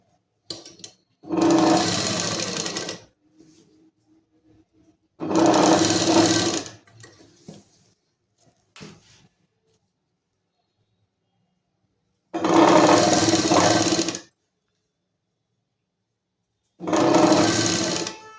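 A sewing machine stitches the sleeve onto a collared kurti in four separate runs of fast, even whirring, each a second or two long, with quiet pauses between.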